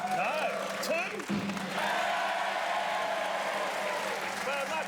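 Studio audience on an Australian football TV show cheers and applauds a vote, a broad wash of crowd noise rising after a host's voice and continuing under it.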